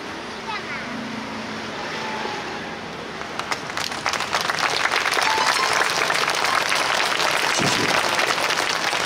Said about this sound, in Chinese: 谢谢，真诚的掌声